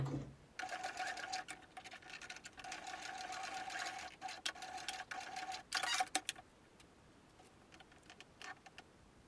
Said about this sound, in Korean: 위쪽에서 표시한 부분을 노루발 간격으로 쭉 재봉해 주세요.